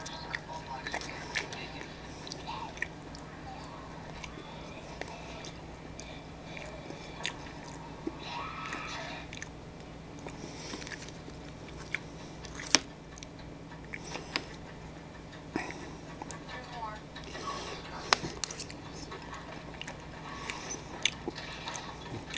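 Cornbread being eaten: soft, close chewing and biting with small irregular clicks and crunches over a low steady hum, faint and intermittent throughout.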